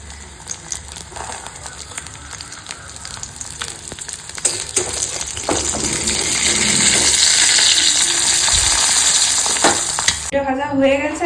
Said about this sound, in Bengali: এখন মায়ের ডিমের পোচটা রেডি করে দিই